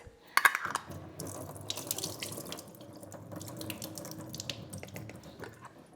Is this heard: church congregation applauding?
no